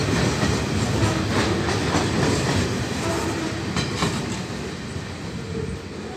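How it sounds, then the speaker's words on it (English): A freight train rumbles steadily past close by on a line toward Port Kembla, with continuous rail noise and faint rhythmic clatter of wheels over the tracks. "And here comes the train end."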